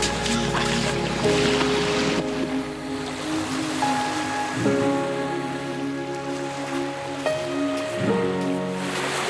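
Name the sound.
ocean waves at Third Beach, Vancouver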